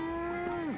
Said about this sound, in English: Okay, there's a cow.